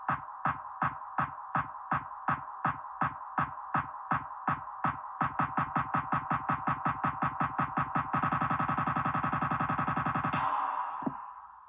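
Rap beat with an EDM-style build-up and its claps muted: evenly spaced synth pulses that quicken into a rapid roll, swell into a dense sustained burst and then cut off abruptly near the end, no voices.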